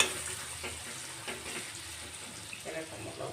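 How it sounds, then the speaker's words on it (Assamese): Chopped onions fry in a little oil in a pan for a chicken dish, a soft, continuous sizzle and crackle with faint stirring, heard alone at low volume. "তেলত অলপ সময় ভাজি ল'ম"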